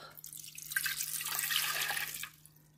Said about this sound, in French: je vais mettre mon eau à l'intérieur.